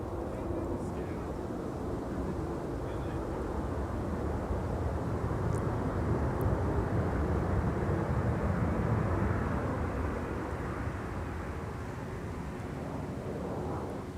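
A jet airliner departs runway 30 right at Minneapolis–Saint Paul airport, its engine roar a steady broadband rumble lasting throughout, heard from a distance with wind buffeting the microphone.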